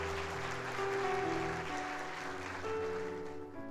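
A church congregation at a Sunday service applauds: steady, dense clapping from a crowd that holds for several seconds and fades slightly at the end, with sustained organ or keyboard tones underneath.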